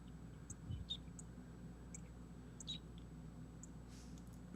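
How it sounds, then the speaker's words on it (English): A small bird chirps outdoors in brief, high, intermittent calls spread across several seconds, faint and distant over a quiet, steady background hum. "Still hearing the bird."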